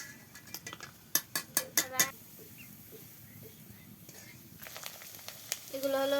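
Egg papad fries in hot oil with a soft continuous sizzle, preceded by several sharp clinks of utensils against a pan, with faint kitchen sounds throughout.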